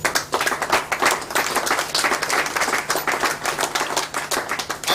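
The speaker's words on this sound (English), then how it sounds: "If I ask all of you to start clapping for the minister" An audience claps for a minister at a public gathering, a dense and sustained round of applause running steadily throughout with no voices over it.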